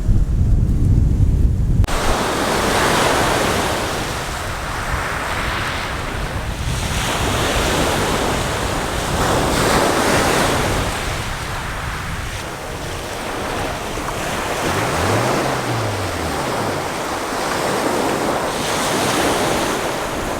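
Choppy sea waves wash and surge continuously beside a fishing kayak in bad weather off Jamaica, with heavy wind buffeting the microphone and a brief thump at the start.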